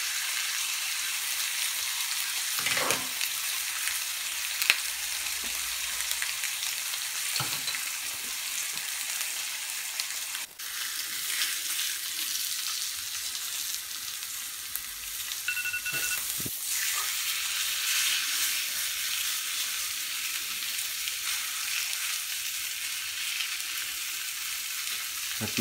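A steak sizzles steadily in a hot pan, a dense, even frying hiss that runs throughout, with a few soft knocks and scrapes as the meat is flipped. No voices.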